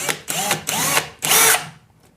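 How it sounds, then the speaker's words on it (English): Power drill pre-drilling holes into a wall for an acoustic panel bracket, three separate whirring bursts with rising and falling motor pitch, close and loud, with short pauses between. "We're just going to pre-drill"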